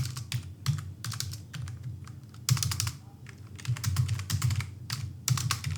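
Fingers tap out quick bursts of keystrokes on a computer keyboard, close and clear, with short pauses between runs of typing and no talking.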